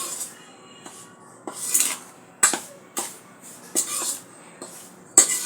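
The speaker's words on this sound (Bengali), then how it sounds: "প্রথমে 2 চামচ পরিমাণ নিয়ে চিনির সাথে মেশালাম" A spoon clinks and taps sharply against a bowl while two spoonfuls of flour are mixed with sugar for oil pitha, giving about eight separate metallic knocks at an uneven pace, with no voices.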